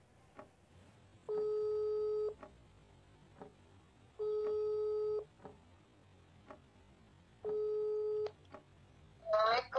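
A phone call rings out: three evenly spaced long electronic ring tones with soft clicks between them, quiet and close, followed by a brief chirp at the end.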